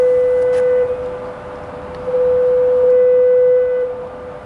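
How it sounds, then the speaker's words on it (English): Bridge foghorns sound through heavy fog at night by the water, one long steady tone, a pause, then a second sustained blast, loud and clear over faint background hiss. "Those are the foghorns for the bridge."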